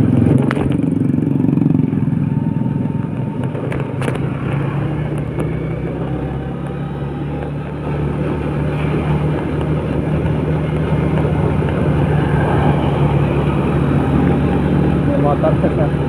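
Busy morning traffic of motorcycles and cars on the slippery Ijo–Giyanti road in Indonesia, a steady roar of engines and tyres passing nearby, with a person talking over it.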